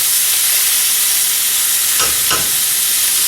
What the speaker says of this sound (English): I'm gonna put just a little bit of it in a hot frying pan.